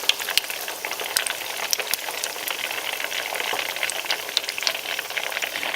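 Egg rolls deep-fry in a basket of hot oil, giving a steady, dense bubbling sizzle with scattered crackles and pops throughout, loud and close with no voices.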